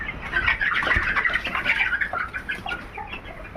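Sick Fayoumi chickens cluck and chatter continuously at close range, a busy overlapping flock sound with no talking.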